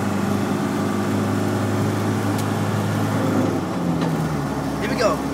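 A Land Rover cruises on the motorway with a constant low engine drone and road rumble, and voices talk over the steady noise.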